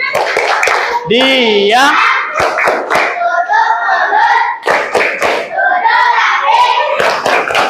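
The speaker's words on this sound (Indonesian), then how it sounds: "Silakan fokus, tepuk konsentrasi." Classroom of students doing a rhythmic concentration clap in sharp, close, patterned bursts, alternating with children chanting in unison between the claps.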